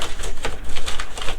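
Packing tape crackles as it is peeled off a cardboard box, an old keyboard box holding a GeForce4 Ti 4600 Mac Edition graphics card. It is a close, continuous run of dry ticking and ripping with no talk.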